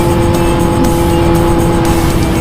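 A Suzuki Raider motorcycle races close by with a loud, sustained, high-revving engine drone and a steady whine that stays constant throughout, with no talk.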